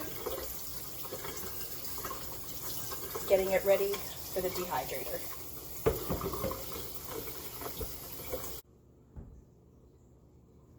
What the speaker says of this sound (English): So just our pasta, rinsing under cold water